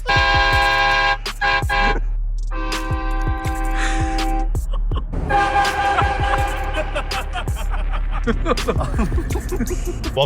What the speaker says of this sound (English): try out our new train horn